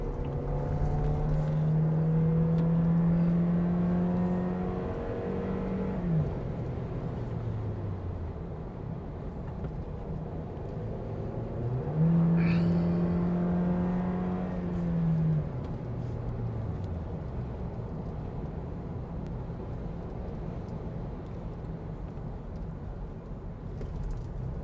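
Toyota Innova 7-seater MPV engine climbing Genting hill, a steady cabin drone with two long rising-and-falling revs as the gears work the slope, continuous and close with no talk.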